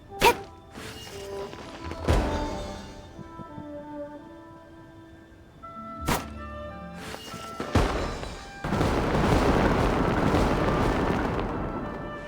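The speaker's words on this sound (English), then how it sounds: "There are fireworks for each of these 4 designs," Fireworks burst in the Lantern Rite festival of Genshin Impact, with several loud booming explosions spaced apart, crackling tails and a dense rumbling barrage building toward the end.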